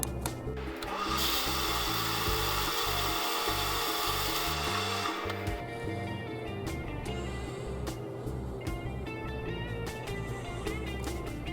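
An aluminium ferrule being cut and drilled, first a loud continuous grinding rasp of a power tool on metal, then a slower stretch of scraping and filing strokes with small clicks, close up and without speech.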